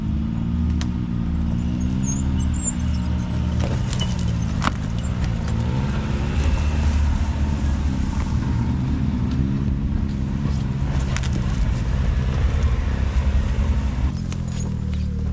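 Side-by-side off-road vehicle climbing through a burnt mountain forest, its engine a steady close rumble with rising and falling revs over bumpy terrain, rattles and knocks throughout, and no talk.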